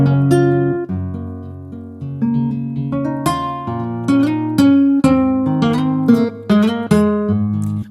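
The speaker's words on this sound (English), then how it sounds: "I'm going to be adding this nylon guitar from Flex" A nylon-string guitar from the FL Studio Flex plugin plays a gentle melodic phrase alone, plucked notes ringing and overlapping with soft sustained chords, clear and close.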